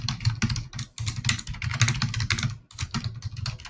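Fast, forceful typing on a computer keyboard during a live futures day-trading session, dense clattering keystrokes in quick bursts with one brief pause, close and loud with no talk.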